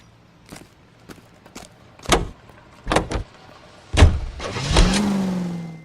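Car in the video game L.A. Noire: a series of short door thumps and clunks, then an engine starting up and rising into a steady close hum with a climbing whine.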